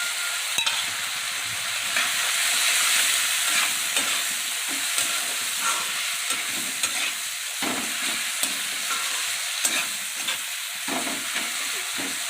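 A tomato fries with salt and turmeric in a pan, giving a steady broadband sizzle throughout with irregular scraping stirs of a utensil, close and continuous, no voices.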